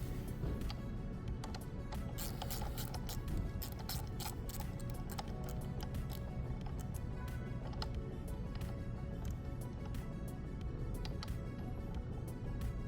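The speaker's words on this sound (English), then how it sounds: "take your ratchet, make sure you put it on, hold one side, and start tightening" A ratchet tightening the front axle slider on a Ducati 848 Evo motorcycle, giving a steady run of quick, close clicking ticks that carries on for several seconds over a constant background hum.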